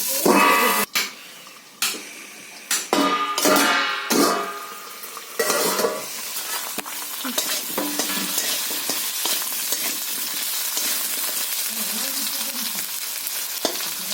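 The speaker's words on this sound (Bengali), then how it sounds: "দিয়ে আমি আলুটা ভেজে দিচ্ছি বন্ধুরা" Potatoes fry in hot oil in a wok with a loud, close, continuous sizzle, punctuated early by several sharp stirring scrapes and clanks of a utensil against the pan, then settling into a steady bubbling hiss.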